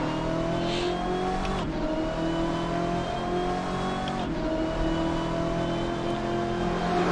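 A BMW M8 race car in the Assetto Corsa racing game drones steadily at high revs, with brief dips on gear shifts around the lap, loud and continuous with no talk.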